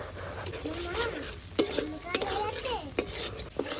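Spice masala paste being stirred and sautéed in a pan, with repeated scraping and clinks of a utensil against metal over a faint sizzle, while a voice talks quietly underneath.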